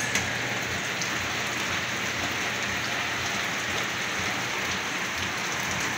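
Heavy rain pours down suddenly during a Sunday laundry day, a dense, even roar of drops hitting surfaces, loud and close, steady throughout with no talking.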